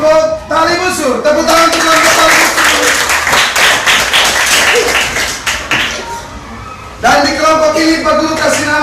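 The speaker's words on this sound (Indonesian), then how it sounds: "Tepuk tangan untuk kelompok Tali Busur." A classroom of children claps together for a group, a burst of busy, fairly loud applause between an adult's spoken lines at the start and end.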